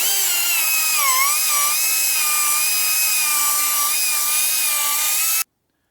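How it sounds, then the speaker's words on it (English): A die grinder grinds an engine block for connecting rod clearance on a stroker build, a steady high-pitched whine held loud and close for about five seconds before cutting off abruptly. "I had to go get the die grinder"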